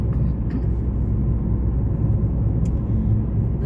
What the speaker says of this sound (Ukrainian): Відділяно одна машина їде.